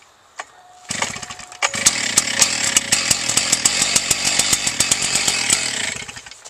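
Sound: K12 cut-off saw engine firing on a cold start

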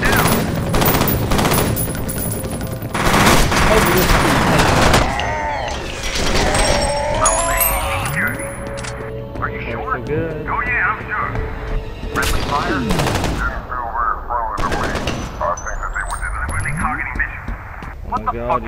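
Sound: gunfire in the video game F.E.A.R

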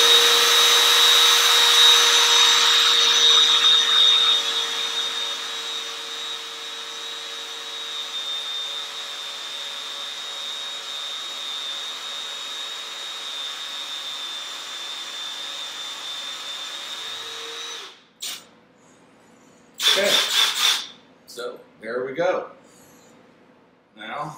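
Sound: power drill with extension rod drilling wooden chair stretcher

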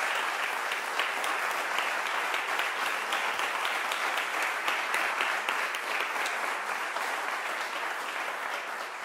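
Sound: audience applause for a musician

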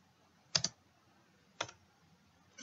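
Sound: typing on a computer keyboard

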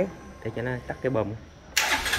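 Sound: Honda Future Neo FI 2007 motorbike engine starting

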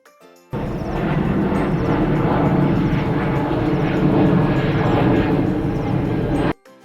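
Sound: airplane

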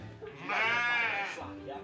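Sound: sheep bleating in a shaft

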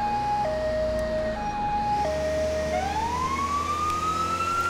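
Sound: police car siren in video game LCPDFR

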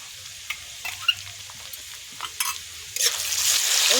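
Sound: onions frying with dry chilli and ginger-garlic paste

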